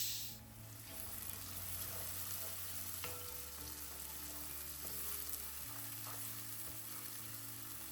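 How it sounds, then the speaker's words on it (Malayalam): Onions shallow-frying in ghee with cardamom and a pinch of salt in a pan for biryani, a steady close sizzle with occasional stirring clatter, no talking. "പിന്നെ കുറച്ച് ഉപ്പും കൂടെ ചേർത്തിട്ട് നന്നായിട്ടൊന്ന് ഫ്രൈ ചെയ്തെടുക്കാം"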